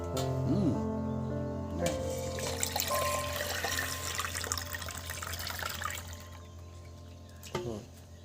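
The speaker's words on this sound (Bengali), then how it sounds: "এবার এর মধ্যে দেখুন জল দিয়ে দিচ্ছি দেখুন জল দিয়ে এটাকে আবার ধুয়ে ফেলে দেবো" Water is poured over sliced potatoes to rinse them while making crispy shredded fried potatoes, jhuri aloo bhaja: a loud, close, continuous rush and splash that eases off and ends with a few sharp knocks.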